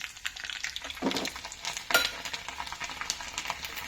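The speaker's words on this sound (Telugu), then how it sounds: "ఇది ఎర్రగా వేగాలండి వెల్లిపాయ ముక్కలు" Pieces of garlic frying in a pan for mango dal make a close, busy crackle. Stirring scrapes and a couple of louder spatula strokes run through it, with no talking.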